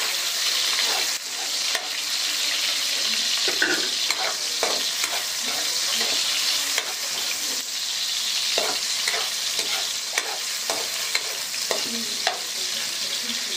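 Onion and tomato sizzle steadily in a hot pan while vegetables are sautéed, with a continuous frying hiss and repeated stirring scrapes and clatters throughout, close and fairly loud, no talking.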